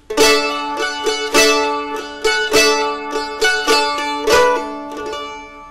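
A plucked stringed instrument plays a riff slowly and deliberately, each note ringing out clearly, close and loud, with no talking.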